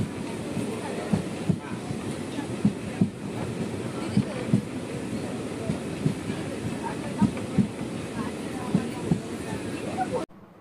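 Jan Shatabdi Express running between stations on the Trichy–Thanjavur line, heard from inside as a steady rumbling roar with regular rhythmic clacks of wheels over rail joints.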